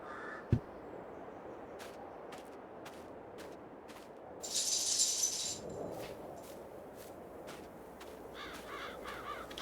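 A crow caws repeatedly in the farming game Farming Simulator 22, short sharp calls spaced through a steady outdoor ambience, moderately distant, with no talking over it.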